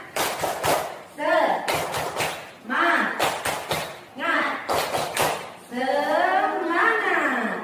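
Students in a classroom repeat the tepuk semangat spirit clap, crisp patterned bursts of group clapping alternating with chanted voices, several rounds in quick succession at close range.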